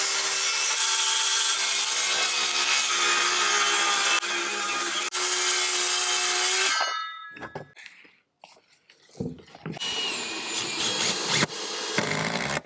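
A circular saw rips loudly and steadily through 3/4 inch plywood along joist marks, then winds down, followed by rubbing, knocks and light clatter of handling the board.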